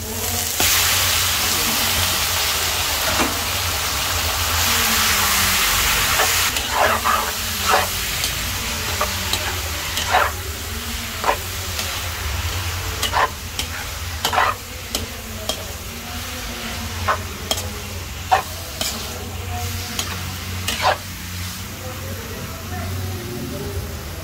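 Three kilos of pork frying for a Filipino pork menudo, a steady loud sizzle and hiss in the pan with repeated sharp stirring scrapes throughout, no speech.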